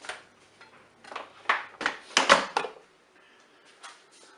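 A lid set back onto a Cookeo multicooker: a short series of hard plastic and metal clatters and scrapes, close and fairly loud, settling into quiet with a faint final knock.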